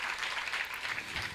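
Brief burst of applause from a gathered congregation honouring saints at a religious discourse, a steady wash of many hands clapping at moderate distance, fairly soft and short.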